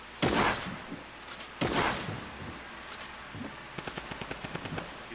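Fortnite gunfire in a match: two heavy blasts followed by a quick rattling burst of rapid shots, moderately distant and sharp, with no talk over it.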